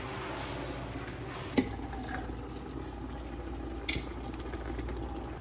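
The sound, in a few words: crushed tomatoes deglazing the bottom of a pot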